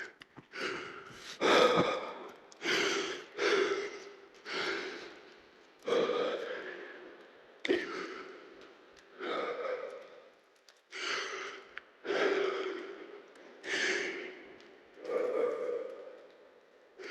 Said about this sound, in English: Man, I'm breathing so hard.